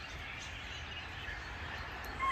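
Faint bird calls flicker over a constant outdoor rumble, scattered and distant, with no voices present.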